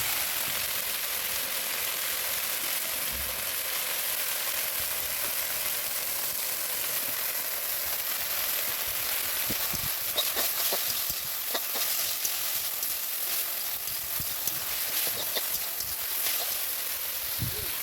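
Food fries in a pan at home, a steady, dense hiss of sizzling oil throughout, with occasional faint clinks and stirring sounds near the end.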